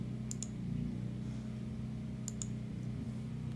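A few soft computer mouse clicks, two quick pairs about two seconds apart, sounding close and faint over a steady low hum.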